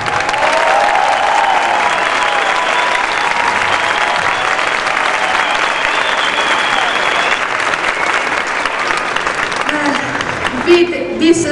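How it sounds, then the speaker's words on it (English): A Paris audience at an International Women's Day event claps steadily for about ten seconds, a dense, loud wash of hands that thins near the end as a voice and music begin. "Now clap."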